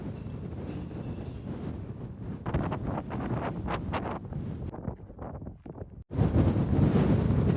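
Strong wind buffets the microphone at a small cove at Port Stoth in the Outer Hebrides, with heavy rumbling gusts that briefly drop off, then a loud blast returns near the end.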